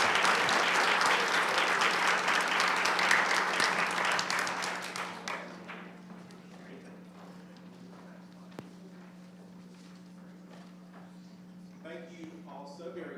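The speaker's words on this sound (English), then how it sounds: "can we give a round of applause for the rest of them as well" Audience applause for participants at a mathlete competition, loud and dense clapping for about five seconds that then thins out into scattered claps and room noise, with a faint hum underneath.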